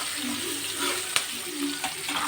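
Paneer curry masala fries in a pan with a steady, soft sizzle and watery bubbling, a couple of small sharp pops standing out over the continuous hiss.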